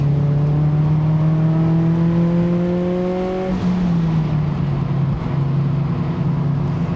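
A Mazda NC Miata's engine drones steadily on a race track, its pitch rising under acceleration and then dropping sharply as the driver lifts or shifts before climbing again.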